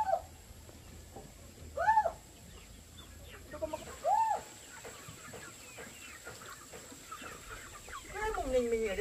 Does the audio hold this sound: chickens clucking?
yes